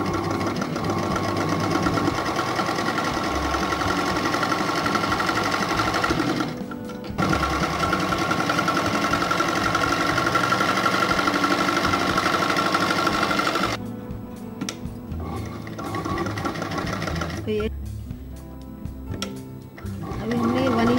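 Sewing machine stitching a salwar seam, running in long steady bursts with brief pauses; a continuous loud mechanical whir with fast stitching rhythm, briefly stopping and restarting near the end.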